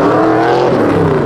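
A loud car engine roars steadily at a cars and coffee meet, a dense continuous rumble with no talk over it.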